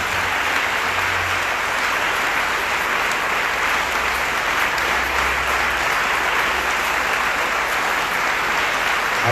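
A congregation at a Sunday worship and praise service in church claps loudly and continuously, a dense, even wash of applause with no pause throughout.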